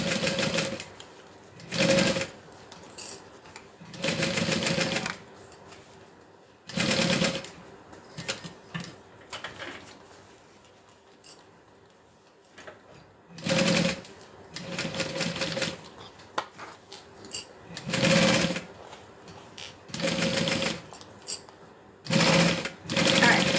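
A sewing machine stitches a backpack in repeated short bursts of loud rapid clatter with pauses between them, while a person talks quietly in the gaps.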